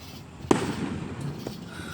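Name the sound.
fireworks exploding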